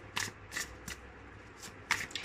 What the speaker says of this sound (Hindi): मैं शफ़ल करूँगी और शफ़ल के दौरान जो कार्ड्स गिरेंगे उसके हिसाब से आप देखिएगा